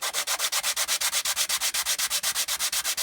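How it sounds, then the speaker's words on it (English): Hand sanding a held-down piece of timber, with steady rapid back-and-forth rasping strokes repeating evenly and close up, with no talk. "hold it down and sand away"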